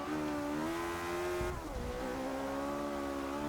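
A Ferrari V8 race car engine in Forza Motorsport 6 drones steadily at high revs, with a brief gear shift dip midway before climbing again, loud and unaccompanied by talk.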